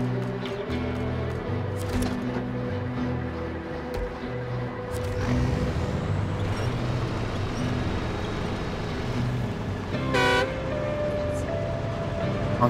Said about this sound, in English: Honking the horn a little bit.